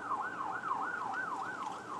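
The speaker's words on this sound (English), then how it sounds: "that's police sirens you hear probably" A distant police siren on US 50 wails steadily on a windy day, its pitch rising and falling in a regular rapid cycle over a faint background rumble.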